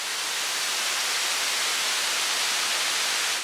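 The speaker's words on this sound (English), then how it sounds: "The last layer is the whitish noise layer." A synthesized whitish noise layer from an electronic music production plays as a steady, dense hiss, loud and unchanging throughout with no other sounds.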